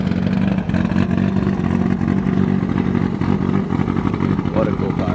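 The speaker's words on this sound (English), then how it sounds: "It sounds so rowdy, just idling here." A Subaru STI S207 engine idles roughly and loudly up close, a steady throaty rumble with a slight uneven pulse throughout.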